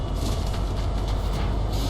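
Train rumble from the Fortnite video game, a steady low rolling drone with faint rhythmic clatter, heard alone and close for a couple of seconds.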